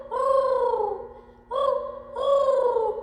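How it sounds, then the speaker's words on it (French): Domestic turtle doves cooing, three close, clear drawn-out coos with a short pause between the first two, over a quiet background. "Et là, c'est des roucoulements incessants."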